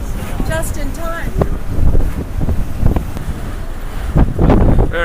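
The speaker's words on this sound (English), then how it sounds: "Now getting windy" Strong wind gusts across the open deck of the cruise ship Ovation of the Seas off New Zealand, buffeting the microphone with a rough, rumbling roar that swells and eases, while people talk underneath.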